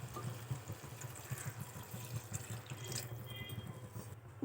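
Water is poured into a pot of vegetable sambar in a home kitchen, a faint, continuous trickle and splash with small irregular drips, heard quietly and alone.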